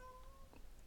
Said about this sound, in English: Sorry for my cat meowing loud.